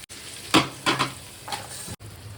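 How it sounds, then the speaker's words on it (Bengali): Pieces of sun-dried mango frying in a pan at home; a soft steady sizzle broken by three scraping stirs of a spatula against the pan. "এই যে আমটা আমার যতটুকু ভাজার দরকার আমি ভেজে নিয়েছি"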